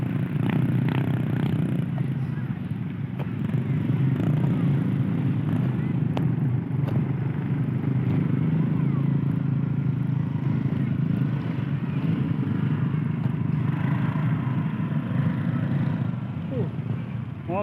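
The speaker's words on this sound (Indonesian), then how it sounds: "Motor banyak sekali nih teman-teman" Many motorcycles crawl in jammed traffic at Sasak beach in West Pasaman, on soft sandy ground after rain; a steady low engine rumble continues throughout, with people talking over it.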